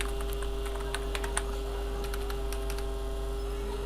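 A password is typed on a computer keyboard, a steady patter of light, close key clicks over a constant electrical hum, with no talk.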